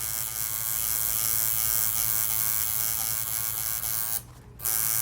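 A tattoo machine with a small needle buzzes steadily while shading detail in a portrait. The close, continuous electric whine stops briefly near the end and then starts again.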